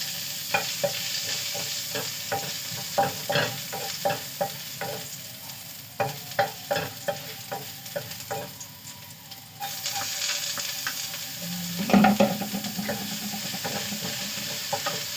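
Stir-frying a small amount of meat with garlic in a pan gives close, rhythmic scraping and stirring strokes over a steady sizzle, with a brief louder burst of frying near the end.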